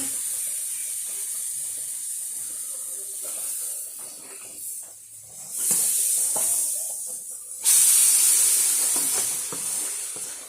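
Liquid poured into a hot pan for a Tamil-style curry, giving a steady hissing sizzle that swells in two loud bursts as more is added, then settles back to a continuous fry.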